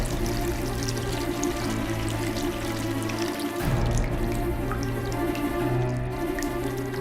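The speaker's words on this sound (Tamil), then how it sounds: "பாத்ரூம்ல தான் டேப் திறந்திருக்கு" Water runs from an open bathroom tap in a home, a steady pouring and dripping flow that continues alone throughout with a constant low hum beneath it.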